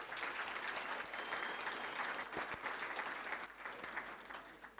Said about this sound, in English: And I want to please give him a round of applause.